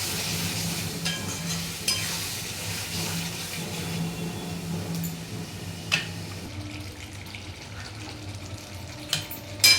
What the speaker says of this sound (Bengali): পরিমাণ মতো হলুদ দিয়ে ভালো করে নাড়িয়ে চাড়িয়ে কষিয়ে নেবো